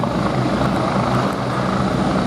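A Westland Wasp naval helicopter flies at an air show, its turbine and rotor producing a loud, steady, broadband roar with a dense continuous whine, close and unbroken throughout.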